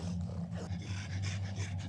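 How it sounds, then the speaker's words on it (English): A creature in the Mist Survival video game gives a low, steady growl, close and continuous, with rough rumbling texture throughout and no talking. "I can actually hear a different growling noise."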